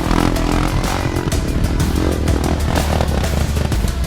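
Quad bike engine on a Thrill Seeker ride, revving loudly and continuously up close with a rough, buzzing drone and throttle surges throughout.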